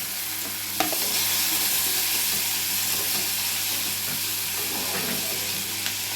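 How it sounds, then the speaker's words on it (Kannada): Steady, dense sizzling of onions and tomato frying in a hot pan, with a faint scrape of stirring near the start; continuous and fairly loud, no talking. "ಈಗ ಎಲ್ಲ ಚೆನ್ನಾಗಿ ಫ್ರೈ ಆಗ್ತೈತಿ."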